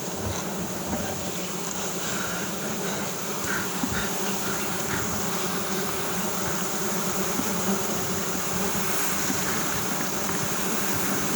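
A dense, steady hum of many bees swarms around a huge honeycomb high up in a tree, recorded from among the branches, continuous and fairly close throughout.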